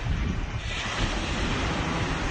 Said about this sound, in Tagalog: Kaupay sa tinig sa dagat.